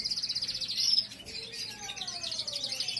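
Small caged birds chirp and tweet rapidly in quick repeated bursts, close by, with a few thin whistling calls.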